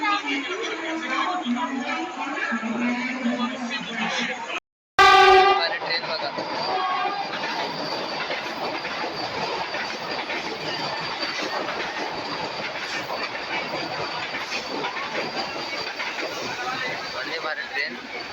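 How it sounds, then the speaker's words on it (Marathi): The Dadar–Sawantwadi Tutari Express rumbles and clatters steadily over the tracks, loud and close, after a few seconds of voices and a brief sharp jolt. "हे आहे ना दादर सावंतवाडी ट्रेन"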